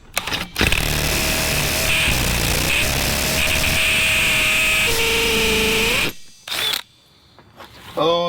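A power hammer pounds steadily at an old, stubborn concrete floor, loud and close, with a continuous rattling roar that stops, restarts briefly and then resumes.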